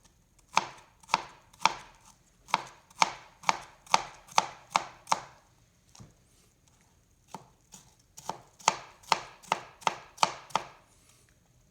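A knife chops vegetables for pico de gallo on a cutting board, sharp rhythmic knocks in quick close bursts, pausing briefly between runs.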